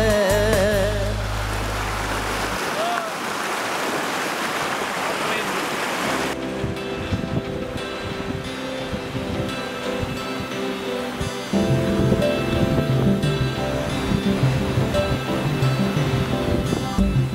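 A wide river in Ladakh rushes along with a steady broadband roar, wind buffeting the microphone at times and a low rumble partway through.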